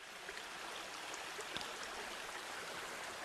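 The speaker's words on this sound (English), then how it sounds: "Cool little creek right there." A small creek flows beside a snowy Appalachian campsite, a soft, continuous wash of running water heard alone at a steady, fairly quiet level.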